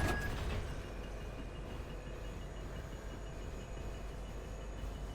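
A Star Wars-themed train rolls past in Fortnite, a steady low rumbling drone that starts slightly louder and then settles into a continuous even roar.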